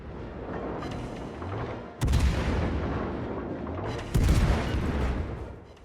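Naval guns fire armour-piercing shells in World of Warships: Legends, two heavy booming salvos about two seconds apart over a constant rumbling engine and sea background, loud and close, with no talking.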